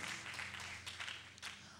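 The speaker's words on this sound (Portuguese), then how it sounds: "Se você pode aplaudir o Senhor." A church congregation applauds in praise during an evening service, a soft, even wash of clapping from the room with no voices over it.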